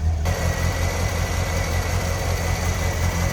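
A 1979 MG Midget convertible's engine idles steadily close by, a continuous low rumble with a faint high whine above it and no one talking.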